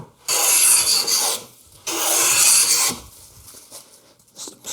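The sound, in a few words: hand smoothing rough spot on wood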